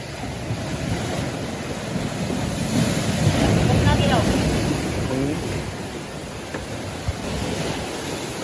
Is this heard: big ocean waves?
yes